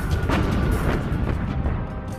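Naval battle effects from the Battle of Leyte Gulf: a dense, rumbling wash of heavy gunfire with repeated booming blasts close together, loud and continuous with no speech.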